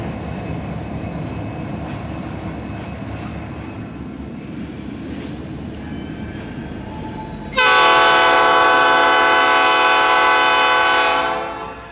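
A freight train rumbles across a classic through-truss bridge over the Savannah River in Augusta, wheels droning steadily until a loud, sustained multi-tone horn blast bursts in partway through, holds for several seconds, then begins to fade.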